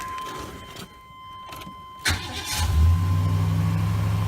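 A 1996 Chevy's starter cranks briefly after a faint electronic chime, the engine catches with a burst and then settles into a steady, close, low rumbling idle.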